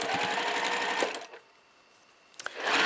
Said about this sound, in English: So I'm just gonna sew all these together